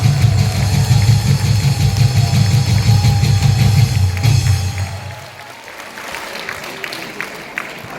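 Church audience applauding a transport minister, a steady roar of clapping over a low engine-like rumble, which drops away midway and leaves scattered claps.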